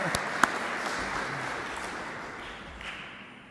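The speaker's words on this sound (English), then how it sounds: "we could applaud" Audience applause at an international building award ceremony, a dense wash of clapping that fades gradually toward the end.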